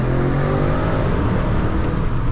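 A 2020 BMW M550i with a 530 hp engine accelerates hard, its engine roaring loud, close and steady as the revs climb continuously with no pauses.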